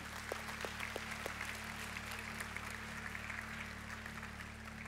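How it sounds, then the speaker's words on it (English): Audience clapping at an evening camp gathering, a steady broadband patter of many hands that holds at moderate level throughout, heard from the crowd without anyone speaking over it. "yeah, you can clap"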